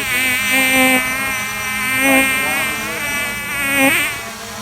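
A Holy Stone 700D drone hovers and flies with a steady, high-pitched electric buzz whose pitch gently swells and dips as it maneuvers, loud and close throughout.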